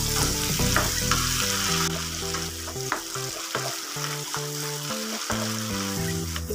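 Turkey berries (sundakkai) sautéing with masala in a pan give a steady, loud sizzle with scraping stirs throughout, while faint music plays underneath.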